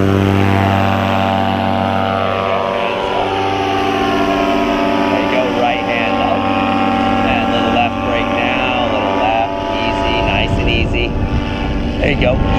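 A paramotor engine drones loud and close at high throttle during a powered paragliding takeoff, with a steady propeller hum that shifts pitch slightly as power eases, while someone talks over it.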